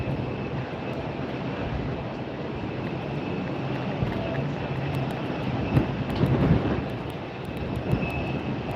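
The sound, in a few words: airliner thrust reversers on landing at Tampa airport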